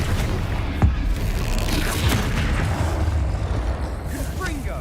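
Flipendo spell cast in Hogwarts Legacy, a booming magical impact over a continuous rumbling game soundscape, with a sharp thump early and swooshing effects later.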